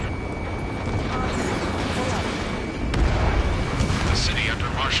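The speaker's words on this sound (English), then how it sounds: "Gunfire and the roar of jets echoing through the streets." Dense, continuous battle noise in the video game Ace Combat 7, with booming blasts and rapid gunfire filling a city scene, growing slightly louder midway, with jet-like roars over it.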